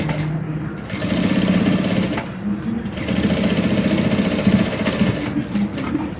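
A sewing machine stitches a crossbody bag: rapid, loud mechanical chattering in sustained runs, broken by short pauses.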